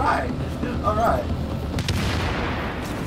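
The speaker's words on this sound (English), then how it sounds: "I heard explosions!" Explosions in the video game The Division, a few heavy booming blasts and rumbling thuds heard beneath a player's excited voice over a gunfight.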